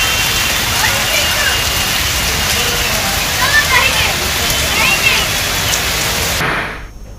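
Heavy rain pours over Hyderabad streets, a loud, steady hiss of downpour that holds evenly throughout before cutting off abruptly near the end.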